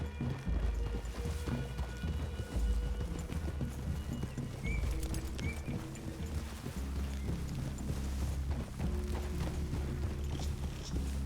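Horse hooves clip-clop steadily in Red Dead Redemption 2, with several horses moving together over a low game ambience and an occasional faint snort.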